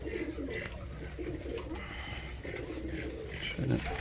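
Yellow Volski pigeons coo softly and repeatedly against a steady low background hum, with a few faint chirps mixed in.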